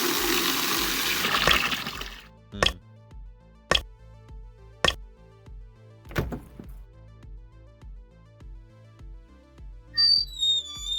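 Water leaks into a bucket in a video game, a run of distinct, evenly spaced drip plinks following a brief rushing gush, each drop sharp and clear over a quiet ticking background.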